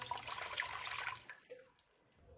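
Water pours from a tap into a pot while making creamy vegetable soup, a steady close splash for over a second before it cuts off and a few drips and small sink sounds trail behind.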